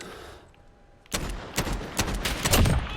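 Heavy .357 Magnum revolver shots crack in a Modern Warfare match, several loud close bangs spread unevenly over a couple of seconds after a quiet start, with other gunfire mixed in.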